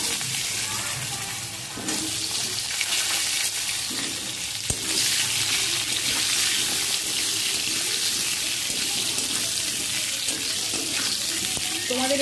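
Potatoes drop into hot oil with cumin seeds, setting off a loud, continuous sizzle close by, steady and dense for several seconds with occasional stirring.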